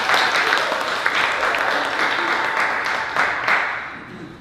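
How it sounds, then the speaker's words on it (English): An audience applauds a performer being introduced at a spotlight writing show, with a dense, steady wash of clapping that holds at a fairly even level for several seconds. "Let's give him a big round of applause."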